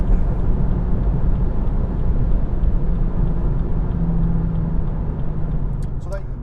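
BMW M135i cruising on a German Autobahn and easing off toward an exit, a steady loud engine and road roar filling the whole stretch, with faint higher chirps near the end.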